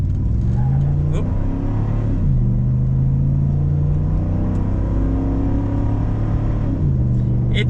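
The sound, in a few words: 2014 first-gen Ford Raptor truck engine accelerating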